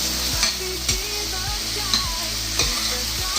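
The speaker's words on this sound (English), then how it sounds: "once sauteed, I'm gonna add some vinegar to it" Sautéed vegetables for Jamaican escovitch fish sizzle steadily in a pan after vinegar is added, with a utensil stirring them in regular strokes about every half second, close and fairly loud.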